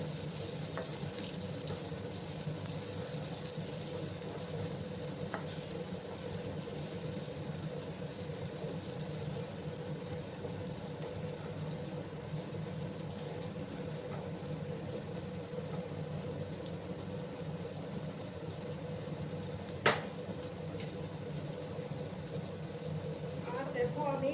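Chopped onions frying in oil alongside small kachki fish in a pan, a steady close broadband sizzle running throughout with one sharp clink near the end.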